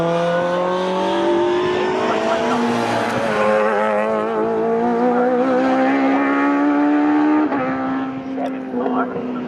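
Clubmans Sports Prototype race cars lapping Snetterton circuit make a loud, continuous high-pitched engine wail that rises and falls through the gears, with a race commentator speaking over it.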